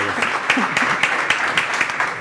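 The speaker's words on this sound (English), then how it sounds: "Round of applause, please." An audience at a conference stage session applauds a panel moderator, a brief burst of dense clapping with a few sharper claps standing out.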